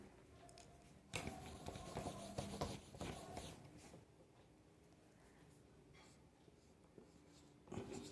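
Handwriting during a physics lesson, a steady close scratching of pen or chalk with stroke-like bursts and light taps, continuing for several seconds with no talking.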